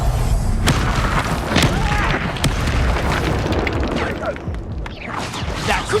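A Confringo blasting spell in Hogwarts Legacy combat sets off dense, booming explosions with crackling bursts that fill the scene at high volume throughout.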